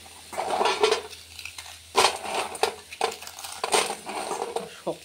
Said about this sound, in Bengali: বড়িটা গুঁড়ো করে নেই বন্ধুরা, একটুখানি গুঁড়ো করে নিই